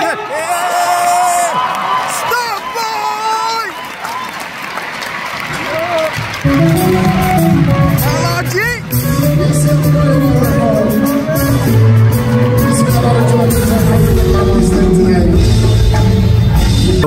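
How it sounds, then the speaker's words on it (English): A crowd at a live African music concert in London cheers and whoops over ongoing music, with loud, dense applause and shouts near the front and a melodic vocal line carrying through. "cheering this amazing performance on"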